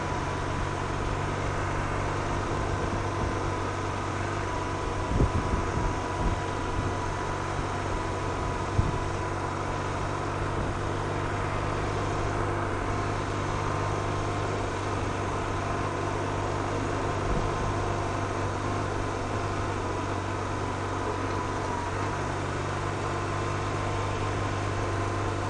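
A 2015 BMW R1200RT motorcycle being ridden on a road, its engine a steady drone under constant wind rush. The sound holds at an even level with almost no change, and no one speaks.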